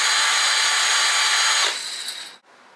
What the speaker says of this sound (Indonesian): seperti pada umumnya cordless drill, dimana kalau kita pencet tekan secara pelan dia akan pelan,